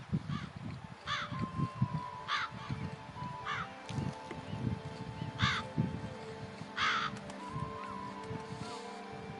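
Northern ravens caw in The Witcher 3 video game, with repeated harsh calls spaced a second or so apart over a busy low background rumble of game ambience.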